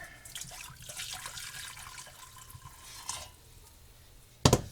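Water poured in a kitchen while making peppermint bark candy, a soft continuous splashing stream close by, thinning out over a few seconds before a sharp knock at the end.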